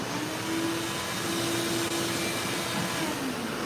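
Air compressor motor running steadily with a constant hum and faint tonal whine, close and continuous, with no talk over it.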